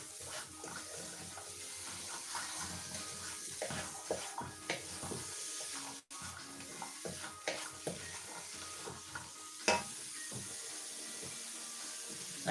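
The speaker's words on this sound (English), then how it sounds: "I'm gonna stir everything together" Celery and leek get stirred in a soup pot while making cream of spinach and celery soup, with soft scraping and wet clinks in uneven bursts, fairly quiet and close, no voices.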